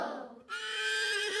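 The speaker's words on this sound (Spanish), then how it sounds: "Es un pequeño caballo y está llorando." A toy horse lets out a loud electronic neigh, one sustained whinny with a brief rising onset, heard alone at close range.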